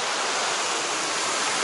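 Sea waves on a beach in Goa, India wash in as a steady, dense hiss of surf, continuous and fairly loud with no voices over it.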